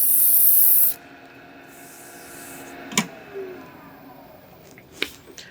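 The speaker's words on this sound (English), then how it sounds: "I'm going to start at sanding at 150. And then I'm also going to sand it with 220" 150-grit sandpaper rubs a wooden Kubb baton in a loud, steady scratching hiss for about a second. Near-quiet follows, broken by a few faint clicks and taps.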